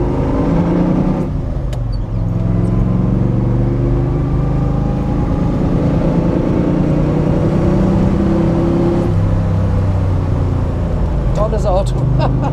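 A 1972 De Tomaso Pantera with a 5.8-litre V8 drones steadily while driving, its low engine note loud and constant with some rise in revs, and a person talks over it.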